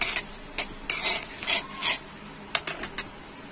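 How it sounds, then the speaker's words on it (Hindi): Cumin, fennel seeds and coriander toast in hot oil in a pan, with soft sizzling and crackling broken by several stirring scrapes before onion is added; no one speaks. "जीरा हो गया है, अभी कांदा डाल देंगे।"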